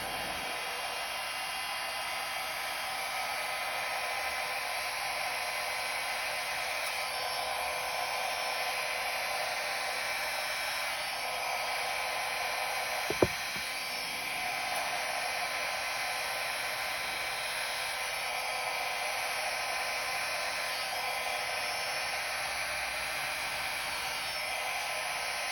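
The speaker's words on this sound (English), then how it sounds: "So I'm gonna grab my little blow dryer, and on the low cool setting, I'm just gonna blow this little guy out." A small blow dryer on its low cool setting blows steadily across fluid-art paint, a continuous airy whoosh for the whole stretch with one brief sharp knock partway through.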